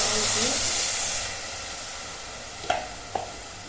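A loud hiss and sizzle as tamarind water hits a hot pan for prawn curry, fading to a softer simmer, followed by two sharp clinks of a utensil.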